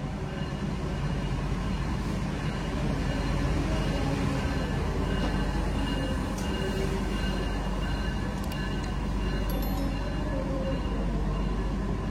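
A ride aboard the Kaligung passenger train in Indonesia, heard as a constant loud rumble of wheels on rails with rattling carriage noise and faint squeals, unbroken throughout.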